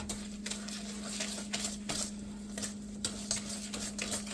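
Pumpkin bread batter being mixed in a bowl, with a steady run of soft, repeated scraping and sloshing strokes close up over a constant low hum, no voices.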